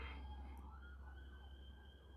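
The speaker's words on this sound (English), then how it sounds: "I don't know if you guys can hear the sirens." Emergency vehicle sirens wail faintly outside, a steady distant tone that holds and slowly bends in pitch above low background rumble, with no voices.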